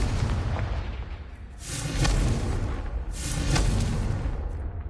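Two booming blasts from the Confringo explosion spell in the Hogwarts Legacy video game, each a broad, rumbling burst about a second long over a steady game background.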